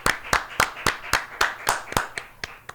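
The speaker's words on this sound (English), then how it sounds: "A round of applause for everybody on defense." Crisp hand claps for a football team's defense, about a dozen steady, evenly spaced claps from a single nearby person in a quiet room, loud and close.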